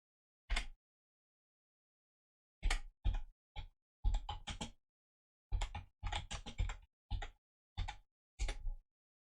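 Typing on a computer keyboard with short bursts of crisp key clicks separated by pauses, close to the microphone in an otherwise silent room.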